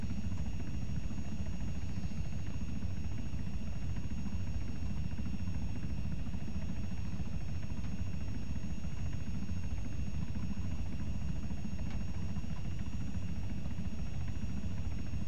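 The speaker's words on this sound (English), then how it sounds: "satu chinook coming down sekarang" A Chinook helicopter comes in to land in ARMA 3, its rotors producing a dense, steady roar that stays loud and unbroken throughout with no voices.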